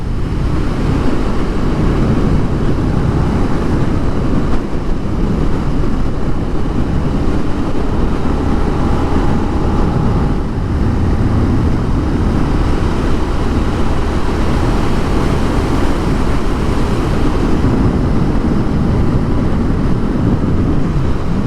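A vehicle engine cruises steadily along a lakeside road, its continuous low drone of engine and road noise holding near and constant throughout, with no distinct gear shift standing out.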